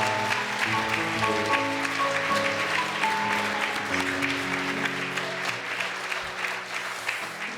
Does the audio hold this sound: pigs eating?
no